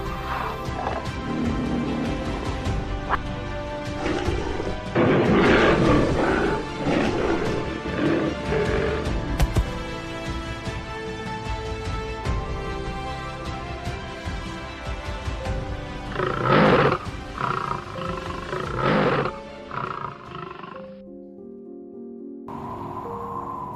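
Tiger in snowy Siberian wilderness roaring amid a loud orchestral documentary score, with several heavy roaring bursts rising over the music before it thins out near the end.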